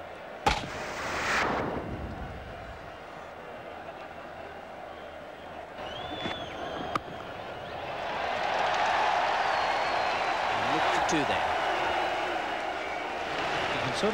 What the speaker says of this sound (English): Sort of almost tell how the game is going from the changing moods of the crowd